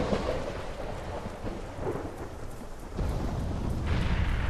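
Thunder rumbles and cracks in a video game storm on Altis, deep rolling booms layered over steady rain, with a sharper strike near the end, loud and without talk.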